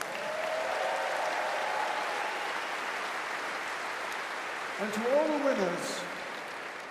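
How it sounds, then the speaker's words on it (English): Large arena crowd applauding award winners at the Invictus Games 2022 closing ceremony, a steady broad wash of clapping throughout, with a voice speaking briefly over it near the end. "let's give all of our amazing winners one more big round of applause"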